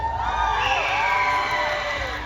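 Festival crowd at a Philippine festival in Yoyogi Park, Tokyo, shouting, whooping and cheering for a contestant in a dense, sustained burst of many voices.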